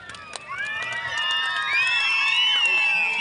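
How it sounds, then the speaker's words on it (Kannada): At a village birthday celebration for Appu, shrill whistles rise and slide above a cheering crowd, and voices call out in the background. "ಕೇವಲ ಚಪ್ಪಾಳೆ ಶಿಳ್ಳೆ ವಿಷಲ್ಸ್ ಮಾತ್ರ."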